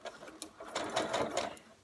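Domestic sewing machine stitching a curved seam on a jersey t-shirt, a steady buzzing whir that speeds up and slows in short bursts, close and moderately loud, with no talking.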